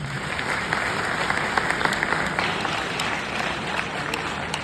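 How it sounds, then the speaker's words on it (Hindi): Students at an academic guidance session at Allen Kota applaud loudly, a dense, steady wash of many hands clapping together at close range with no talk over it. "एक बार अपने लिए जोरदार ताली बजा दें"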